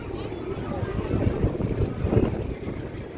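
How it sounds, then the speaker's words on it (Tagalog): Steady wind by the sea gusts across the microphone with a rumbling, buffeting roar and faint water wash, loud and continuous. "Sarap ng hangin dito."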